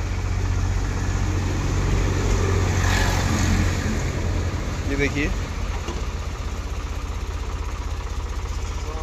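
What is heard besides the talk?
Eicher 5660 tractor engine running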